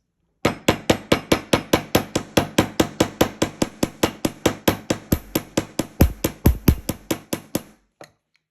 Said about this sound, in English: we're going to hammer out these ends